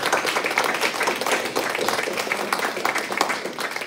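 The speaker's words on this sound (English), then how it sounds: "So please join me in giving a round of applause to these people." Congregation applauding during a Sunday church service, a steady dense patter of many hands clapping throughout, moderately loud and continuous with no clear pauses.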